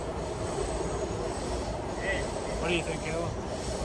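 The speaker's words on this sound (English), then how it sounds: "first time riding in the metro here in D.C." A Washington D.C. Metro train car hums and rumbles steadily as it rides along, a continuous close drone with a brief squeal, under a voice asking a question.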